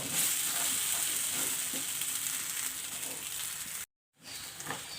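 Boiled potatoes with turmeric are stirred in a hot pan: a steady, close sizzle with light scraping, cut briefly by a short silence near the end before it resumes.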